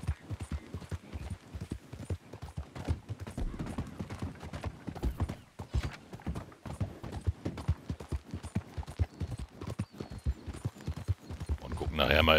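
Steady clip-clop of horse hooves while riding in Red Dead Redemption 2 Online, a continuous rhythmic trot heard close, with someone talking over it throughout.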